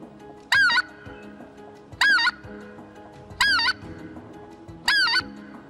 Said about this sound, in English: you're going to hear a real crisp, short yodel